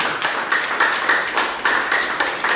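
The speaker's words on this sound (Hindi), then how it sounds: "एक बार सभी माताएं जो बैठी हैं ताली जाए" A seated audience of mothers claps together at a health awareness talk, a dense, steady patter of many hands with loose rhythmic swells, fairly close and loud, with no talking over it.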